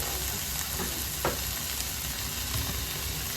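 Tomato cooking down in a pan for vegan sloppy joes gives a steady, soft sizzle and frying hiss, with a faint stir or clink around the middle.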